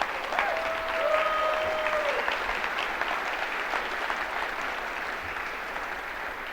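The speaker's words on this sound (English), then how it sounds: "You can clap for that." Audience clapping at a live talk, a dense and steady round of applause that holds for several seconds, with a brief whistle near the start.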